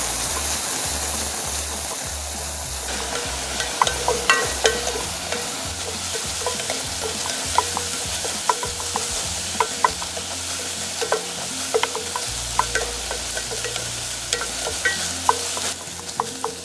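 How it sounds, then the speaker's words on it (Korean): Chopped onions sauté in oil in a pan, a continuous close sizzle with scattered crackles and the occasional scrape of stirring, no voices. "그리고 다진 양파. 볶아주세요."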